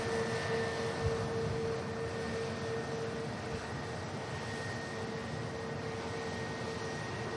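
An EasyJet airliner departs for Tenerife South, a steady jet roar with a sustained high whine and a low rumble, heard alone at moderate loudness without talk.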